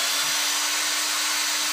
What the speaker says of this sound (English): And then I will use my screw gun.